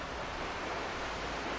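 A video game waterfall in Lost Ember gives a steady, dense rushing roar of falling water, continuous and fairly loud with no breaks or other sounds.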